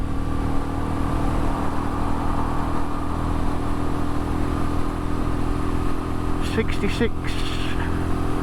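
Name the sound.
Royal Enfield Meteor 350 motorcycle engine riding at speed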